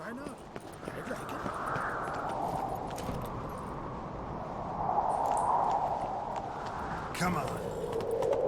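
Roach, the horse in the Witcher game, gallops with a fast, steady drumming of hooves under a rumbling bed of movement, while someone speaks briefly over it.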